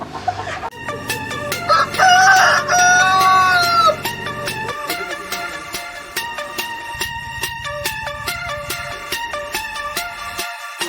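Free-range desi chickens cluck and a rooster crows repeatedly on a poultry farm, the calls loud and close at first, then continuing as steady overlapping clucking with rhythmic background activity.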